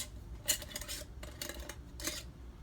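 Metal canning jar lids are picked up and handled during pork canning, producing several short close clinks and scrapes in quick bursts.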